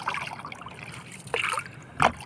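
A small non-motorized fishing boat is paddled by hand with an oar, giving close splashing strokes and gurgling water, with two sharper splashes near the end.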